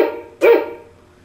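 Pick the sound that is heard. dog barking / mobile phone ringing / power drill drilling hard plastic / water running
dog barking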